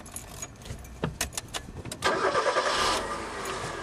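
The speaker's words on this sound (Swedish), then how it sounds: "Du kan starta bilen nu." A car engine cranks and catches after jangling keys, then settles into a steady idle, close and fairly loud, during a driving-test safety check.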